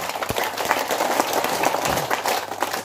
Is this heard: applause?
yes